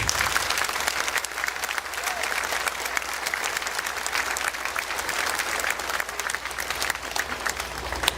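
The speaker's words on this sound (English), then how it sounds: "I need to give everybody here a big round of applause" Sustained applause from an audience at an elementary school band concert, dense clapping at a steady level from start to finish with no talking.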